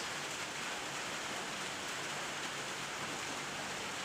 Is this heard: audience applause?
no